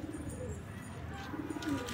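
A pigeon coos softly in a high-flying pigeon loft, low throaty rolling calls repeated at the start and again near the end, quiet and close against faint background noise.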